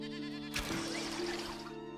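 A goat in the video game Enshrouded lets out one drawn-out, wavering bleat, clear and close over a steady low background hum.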